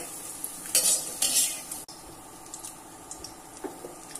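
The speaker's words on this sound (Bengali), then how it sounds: "ডিমটা ভুজিয়া আকারে ভাজা হয়ে গেছে" Scrambled egg bhujia frying in a pan for a spicy egg masala Maggi, with close stirring scrapes and light sizzle, two brighter bursts of scraping early on, then quieter clinks and a soft hiss.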